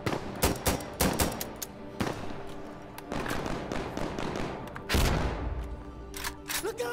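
Gunfire bursts and a grenade blast in the video game Insurgency Sandstorm: rapid cracking shots in clusters, with a heavier booming explosion midway, loud and repeated throughout.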